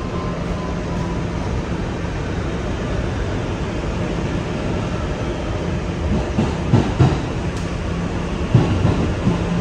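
An R211 subway train on the NYC Rockaway Park Shuttle runs with a steady, loud rumble and rail roar, with a few clacks and knocks from the wheels toward the end.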